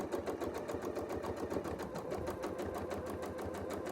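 A sewing machine runs steadily through free-motion quilting, its needle chattering in a fast, even rhythm for the whole stretch, close and continuous with no talk.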